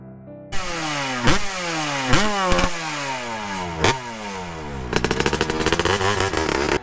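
A restored Yamaha RX 180 motorcycle engine, unused for nine years, sputters and catches with loud revving bursts, then settles into a fast, rattling idle up close, no voices.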